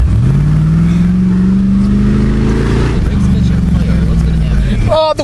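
Car engine revving hard as its wheels spin in a wet grassy field, a loud sustained drone rising and falling in pitch, close up, with a brief burst at the end.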